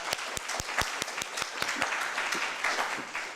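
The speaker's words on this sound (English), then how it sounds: "Another round of applause before the Vice Chancellor" A conference audience applauds at a live research session session, a moderate wash of many hands with a few sharper, nearer claps standing out, fairly faint and steady throughout.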